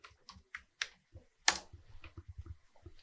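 Typing on a computer keyboard during a Git tutorial, heard as quiet, close, irregular key clicks in short runs with one louder keystroke partway through.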